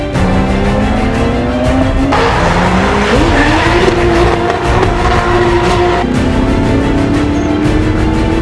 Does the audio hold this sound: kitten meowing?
no